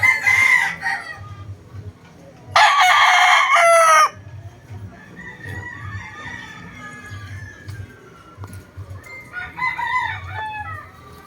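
A two-year-old fighting rooster crows loudly twice, close by, followed by softer clucking and bird calls over a steady low hum.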